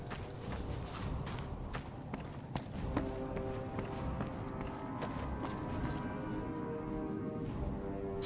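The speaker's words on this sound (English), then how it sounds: "Heard your footsteps coming up the ramp." Footsteps walking up a ramp in Fallout: New Vegas, a steady series of close taps over a low ambient game background with faint tonal music.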